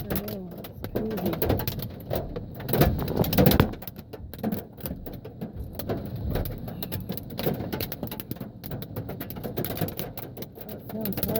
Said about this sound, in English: Look at the hail all over the place.